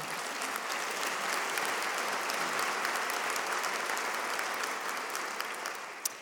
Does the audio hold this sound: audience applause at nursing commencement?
yes